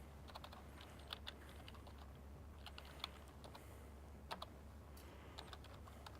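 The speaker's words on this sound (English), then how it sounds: "let me just type" Clicky keystrokes on a computer keyboard come in short, irregular bursts over a steady low hum in a quiet room, each tap faint and close with brief pauses between clusters.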